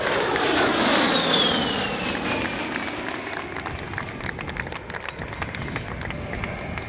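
An A-10 jet aircraft flying at the Cleveland National Air Show roars loudly with broadband jet noise and a falling whine as it passes, then fades to a steady distant rumble.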